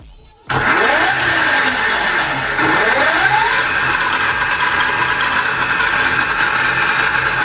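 An electric moped's BLDC motor run by a VESC controller, with the moped tilted forward and throttle applied smoothly: a loud, continuous whine that rises in pitch twice as the motor spins up, heard alone and close.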